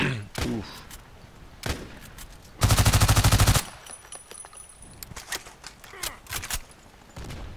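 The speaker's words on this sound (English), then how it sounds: "This gun could really use a silencer, I would say." Rapid automatic fire from a PDR-C gun in Contract Wars, a loud, tightly spaced burst of about a second, surrounded by scattered single shots and impacts in a busy game battle.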